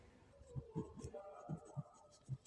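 Pen scratching on paper while working a class 5 math problem, a series of soft, faint strokes in an irregular rhythm, close and quiet.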